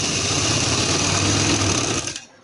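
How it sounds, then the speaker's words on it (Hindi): A sewing machine runs steadily as it stitches fabric for a V-neck with lace loops, a continuous close mechanical whir lasting about two seconds before stopping abruptly. "आधे पैर की सिलाई लगाऊंगी मैं।"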